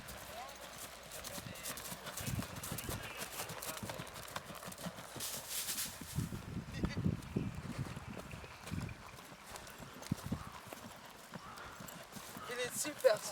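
A horse in an outdoor setting near mountains and the sea, its hooves clip-clopping in an uneven rhythm at moderate distance while people talk throughout.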